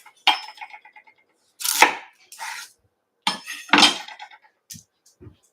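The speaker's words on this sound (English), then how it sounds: "So I'm gonna peel my onion." Knife and hands working an onion on a cutting board in a home kitchen while making lentil veggie soup: irregular close taps, cracks and papery rustles in short bursts, with quiet gaps between them.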